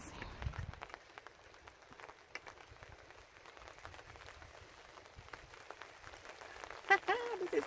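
Rain falling around a lake in Alaska, a soft steady patter of drops on surfaces with scattered louder splashes, gentle and continuous throughout.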